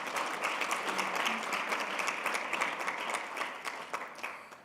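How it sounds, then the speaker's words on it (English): An audience at a conference panel on closing the gender gap breaks into sustained applause for a UN Women official, dense clapping that holds steady and then thins out toward the end. "Please give her a round of applause."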